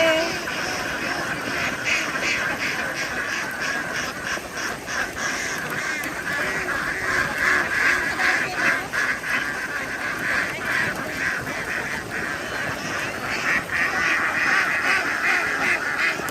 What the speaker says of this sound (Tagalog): Ito guys, yung mga itik na to, nakakarating yan hanggang din sa bukid namin.